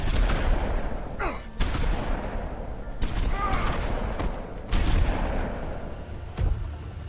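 Repeated shotgun blasts in The Wolf Among Us, Episode 3, A Crooked Mile, several loud broadband bangs spaced over a few seconds amid ongoing game noise and rumble.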